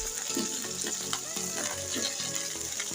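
Chicken for tandoori chicken sizzles in a pan on a gas stove, a close, continuous frying crackle with soft stirring and faint background music.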